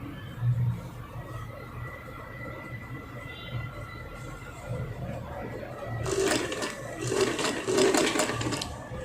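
A sewing machine stitching a plunge blouse runs in quick rhythmic bursts toward the end, after quieter handling, with someone talking softly throughout.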